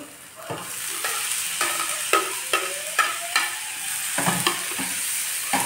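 Vegetables stir-frying with turmeric in oil in a pan over low heat, a steady close sizzle broken by repeated sharp scrapes and clanks of a spatula stirring at an irregular rhythm.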